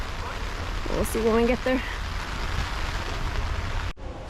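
Steady rain falls around a person outdoors at a slippery tourist site in Okinawa, a constant broadband hiss beneath brief nearby talk, ending with a sudden cut.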